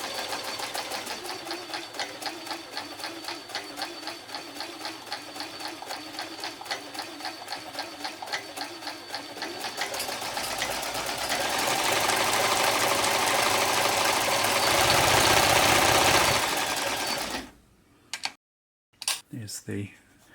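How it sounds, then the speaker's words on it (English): A Janome Combi sewing machine sews a stretch blanket stitch, feeding two steps forward and one back while zigzagging. It gives a steady, rapid mechanical chatter for about seventeen seconds, then stops and leaves a few brief clicks. "This is a stretch stitch, so you'll see the machine will feed 2 steps forward and 1 back, and also it's doing a zigzag as well."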